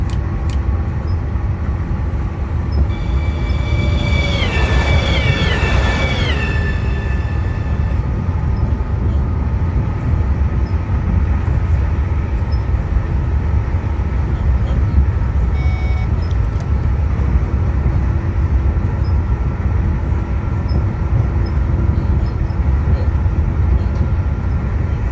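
An ÖBB 4748 train driving in Train Simulator, with a steady loud rumble of the moving train throughout and a brief rising then falling electric motor whine early on.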